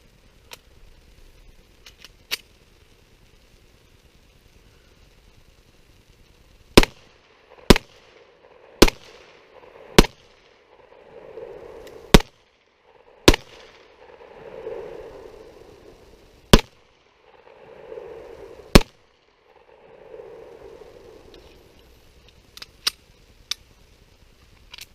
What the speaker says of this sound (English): So again, we're shooting the Ruger SR9E 9mm.